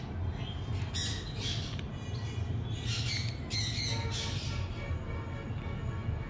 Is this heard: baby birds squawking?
yes